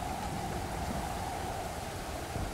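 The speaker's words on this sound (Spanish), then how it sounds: "Porque si os dais cuenta, ahora mismo está lloviendo." Steady rain falls in the survival game Stranded Deep, a dense, even hiss of downpour that continues unbroken at moderate loudness throughout.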